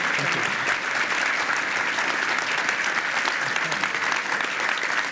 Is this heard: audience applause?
yes